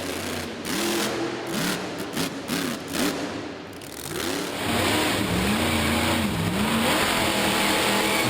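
The Maximus monster truck's engine revs repeatedly during a freestyle run in an arena, loud rising and falling surges that settle into a sustained roar with crowd noise, the motor running slightly off.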